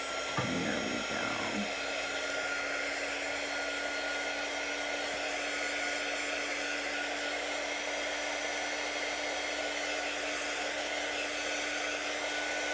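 A hair dryer blows steadily to dry chalk paste on a craft project, a constant airy whir lasting the whole stretch, with a brief voice near the start.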